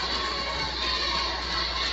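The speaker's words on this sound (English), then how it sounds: "We've got a great crowd on hand. Pikeview brought a bus full of kids. Princeton represented well. It's loud as Parson's" A packed crowd of cheering, shouting kids fills a high school basketball gym, a loud, continuous roar with no break.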